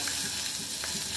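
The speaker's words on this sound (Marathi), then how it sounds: "कांद्याची फोडणी, कांदा गुलाबी तर होऊ द्यायचा आहे" Chopped onion fries in hot oil with cumin and whole coriander seeds for a coconut rice tempering, a dense continuous sizzle with crackling pops, close and steady throughout.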